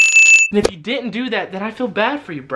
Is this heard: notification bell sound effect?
yes